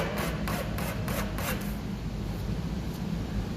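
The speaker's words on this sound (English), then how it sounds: "I want to make sure that that's nice and beveled, nice and sanded." An etching plate's beveled edge is sanded with a steady, close rasping rub, and several rhythmic strokes stand out early before the scraping continues evenly. No voices are heard.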